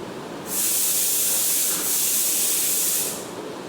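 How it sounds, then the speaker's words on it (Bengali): A pressure cooker cooking dal lets off its whistle, a loud sustained steam hiss that starts abruptly, dips briefly, then resumes before fading back to quiet room noise. "ডালে সিটি পড়ে গিয়েছে, বন্ধ করে আসি।"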